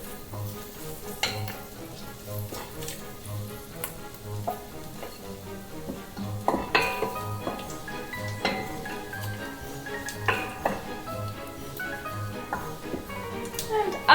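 Paprika and other goulash ingredients are stirred in a pot for Hungarian beef stew, with a low sizzle under repeated spoon scrapes and knocks at an uneven pace that grows busier toward the end.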